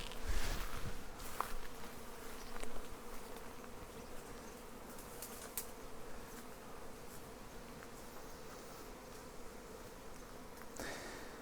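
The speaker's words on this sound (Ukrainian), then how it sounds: "Бджола в будь-якому випадку буде назад сідати." Many honeybees buzz continuously in a dense, droning swarm close by as a swarm is removed from a tree, with a few louder thumps and rustles early on.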